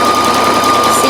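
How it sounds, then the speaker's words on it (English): A sewing machine runs steadily and loudly at close range, stitching a 3/8 seam on pajama pants with a continuous, even mechanical whir. "I'm going to do a couple forward stitches, a couple backward stitches, making sure not to go beyond that dot."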